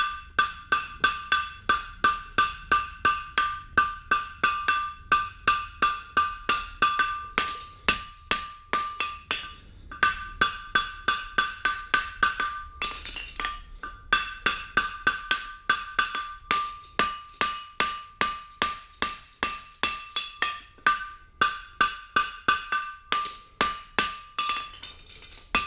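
Steady, ringing hammer blows on a steel bar horseshoe repeat in a regular rhythm, each strike clanging bright and close, with short pauses between runs.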